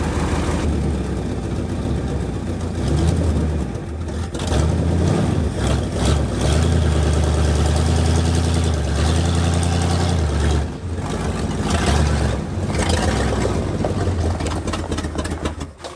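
A rusty Ford Galaxie, restarted after sitting parked for five years with new spark plugs and a new fuel pump, idles with a steady, loud, rumbling low-pitched engine note and a few brief dips and surges.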